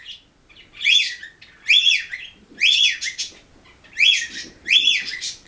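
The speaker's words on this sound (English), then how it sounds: "Sorry about the noise back there, my cockatiels being obnoxious." Pet cockatiels give five loud, shrill whistled calls in steady succession from the background, each a sharp rising-and-falling chirp with short pauses between, and no talking.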